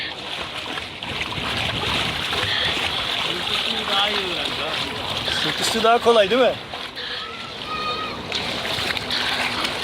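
A child splashes and paddles through water nearby while people talk and laugh over the sloshing.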